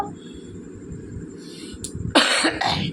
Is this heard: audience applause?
no